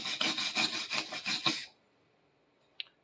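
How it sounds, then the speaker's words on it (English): Hand sanding of surface rust on a metal clamp vise, a loud run of steady back-and-forth rasping strokes that stops abruptly, followed by a single faint tap. "just going to sand it to get a bit of surface rust off."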